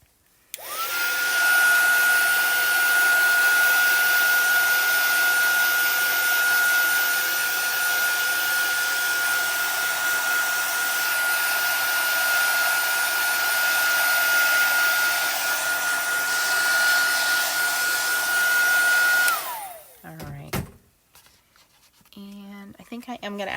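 A hair dryer blows steadily on a small crafted lily pond panel, a loud constant whirring drone with a fixed whine, running about twenty seconds before switching off, then a few quiet handling sounds follow.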